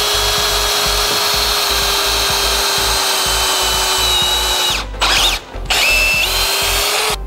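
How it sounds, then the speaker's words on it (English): Loud, steady whine of a power drill with a 1/8-inch bit drilling a deadbolt strike plate hole, running continuously, briefly stopping twice near the end before starting up again. "So you need to use 1/8 drill bit, and you got to drill it just like this."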